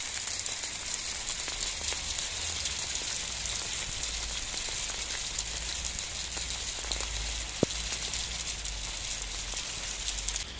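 Constant hiss and patter of hailstones falling on surfaces in a heavy hail shower in Moselle, France, steady and fairly even, with one sharp tick partway through.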